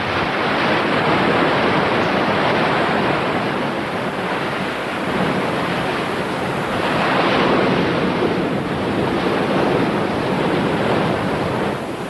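Heavy open-sea waves churn and wash continuously around an inflated life raft, a dense, loud roar of surf with wind buffeting the microphone and slow swells in intensity, with no voices.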